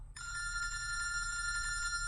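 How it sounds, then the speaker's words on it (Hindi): A telephone rings steadily with a bright electronic trill, close and continuous, starting after a brief pause and running without any voices. "फोन उठा, मेरा फोन उठा।"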